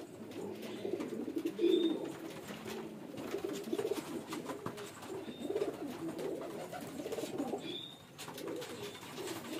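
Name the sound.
male fancy pigeon cooing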